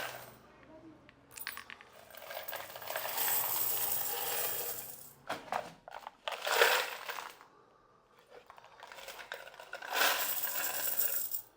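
Coins clattering and rattling down through a coin slot machine at a computer shop, in several sustained bursts of metallic jingling, close and moderately loud, separated by short pauses.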